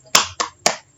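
A classroom of students performs a spirit clap: three sharp, close claps in a quick rhythm, with silence between them.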